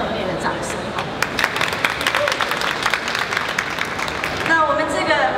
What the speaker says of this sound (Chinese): 所以我们应该先给我们台湾精品一个热烈的掌声。